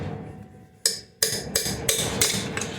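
Metal hammer blows striking a stubborn axle nut on a 1957 Chevy rear end, about five sharp ringing hits at an uneven pace, close and loud in a workshop.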